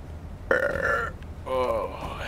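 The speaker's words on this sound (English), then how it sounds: "that was a big burp" A man lets out two loud, drawn-out burps close up, each lasting about half a second, with a short pause between them.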